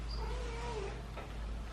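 A kitten gives one drawn-out, falling meow, faint against a steady low background hum in a quiet indoor room.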